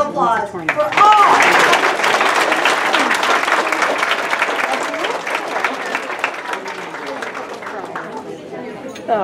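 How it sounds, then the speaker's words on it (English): Applause breaks out for students at a school math tournament, a full room clapping steadily for about nine seconds with cheers and chatter mixed in, slowly thinning toward the end. "One more round of applause for all!"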